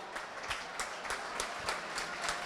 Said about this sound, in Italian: Ci sono gli applausi del pubblico